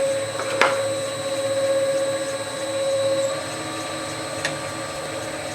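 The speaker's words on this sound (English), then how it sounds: "So I need to remove wood here. I'm going to go down and across" A woodturning tool cuts wood on a lathe to form the tenon of a bowl, giving a steady close whir with a spinning hum and a few sharp ticks.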